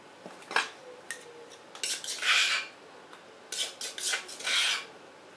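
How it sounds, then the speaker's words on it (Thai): Blanched squid scooped into a bowl with a utensil: soft scraping and light metallic clinks of spoon against dish, a few short bursts close by, no talking. "เสร็จแล้วแม่ยายน้อยก็สิตักออกมาใส่ถ้วยเนาะค่ะ"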